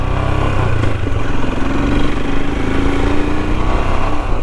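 Royal Enfield Himalayan motorcycle engine droning steadily while riding, a loud continuous single-cylinder thrum with wind rush, holding a fairly even pace throughout with no talking.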